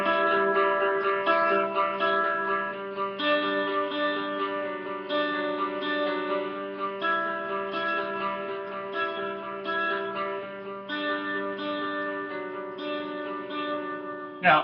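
A dry electric guitar plays through a small, inexpensive Vox amp, giving a clean, steady run of sustained chords and notes at moderate level with no talking, ending on a brief louder strum.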